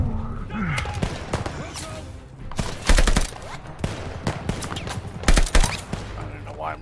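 Bursts of rifle and machine-gun fire crackle through a World War II battle in the shooter Call of Duty: Vanguard, with several sharp, loud volleys layered over chaotic combat noise and shouted voices.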